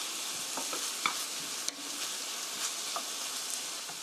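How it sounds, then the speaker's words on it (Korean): Potatoes stir-fry in a pan for Korean home-style curry rice, giving a continuous close sizzle broken by light scrapes and taps as they are stirred. "감자가 투명해질 때까지 3미닛 3분 정도 볶아주세요."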